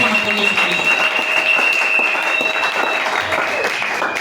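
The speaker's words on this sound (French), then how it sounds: "Applaudissez le Seigneur Jésus." Church congregation applauding during a French-language Sunday worship service, steady dense clapping throughout with a voice speaking over it.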